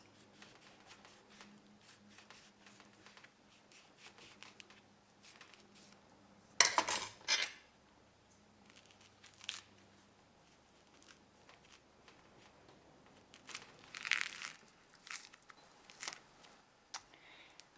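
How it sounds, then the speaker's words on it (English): Oranges being peeled by hand for a small batch of honey-sweetened marmalade, with quiet tearing and rustling of rind, a couple of louder bursts of handling noise, and scattered soft kitchen clatter in a calm room. "So first of all, we're just going to peel our oranges."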